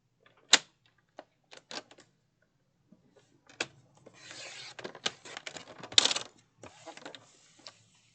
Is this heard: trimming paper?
yes